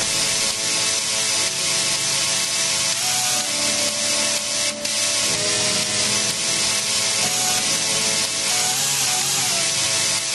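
A chainsaw's engine is played like an instrument, its buzzing pitch shifting to carry a melody over a loud, steady rasp.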